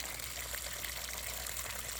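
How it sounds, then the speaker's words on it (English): Water gushes into an aquaponics grow bed in a steady, continuous splashing rush, heard up close at a low level with no voices. "You can see I've got a tremendous amount of water coming into this bed."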